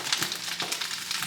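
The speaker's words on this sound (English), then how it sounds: "Let that thing sear for a bit," Food searing in a hot pan gives off a steady, close crackling sizzle with bright spitting pops throughout and no talking.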